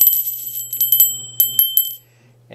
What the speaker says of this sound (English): and the bell doesn't have a bad sound